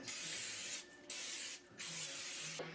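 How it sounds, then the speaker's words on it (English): Three short hissing bursts of cooking spray coating a pan, close and steady, separated by brief pauses. "grab some cooking spray"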